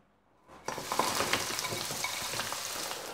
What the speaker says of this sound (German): Das kommt jetzt in die heiße Pfanne.